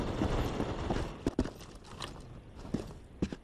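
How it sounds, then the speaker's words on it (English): Irregular footsteps and sharp thumps sound in a zombie shooter video game, a few loud hits standing out from a busy, muffled game soundscape. "the sound of the footsteps are too loud"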